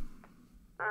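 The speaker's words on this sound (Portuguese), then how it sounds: "É o pato." A cartoon duck gives a single short, loud quack at the very end, after a stretch of soft background music in a children's animated show.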